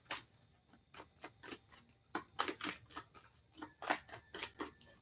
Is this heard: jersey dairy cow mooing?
no